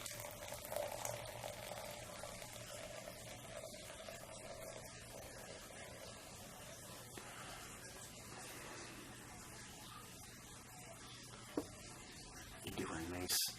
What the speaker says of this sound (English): Do a nice gentle pour so I don't get a crazy gigantic head.